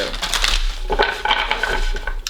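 Tarot cards being shuffled by hand, a continuous papery riffling and flicking with light clicks, close and fairly loud, with no talking.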